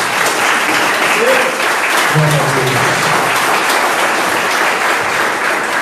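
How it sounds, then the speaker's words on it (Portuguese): A church congregation claps loudly and steadily during a worship service, sustained applause filling the room while a preacher's voice speaks over it. "Vamos aplaudir o Senhor Jesus."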